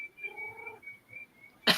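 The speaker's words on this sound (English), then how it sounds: "Meow." A single short cat meow, faint and thin, with a brief louder thump or knock right at the end.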